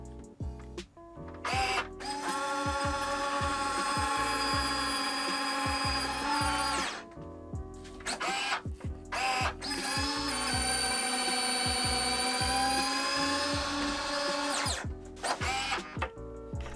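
The small motorized retracting landing gear of a model Gulfstream G650 whirs during a test, with long, loud buzzing gear-motor runs separated by short pauses and clicks, close and continuous.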